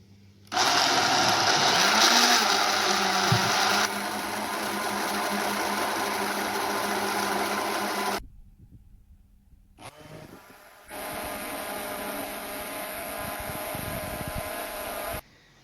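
Loud motor of a blender mixing green salad and endives into a detox drink, running in two bursts with a pause between, the whirring pitch shifting as the speed changes and the leaves break down.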